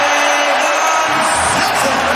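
A loud, dense roar from a packed NBA arena crowd at a Miami Heat versus New York Knicks game, cheering and yelling continuously with whoops rising above the steady din.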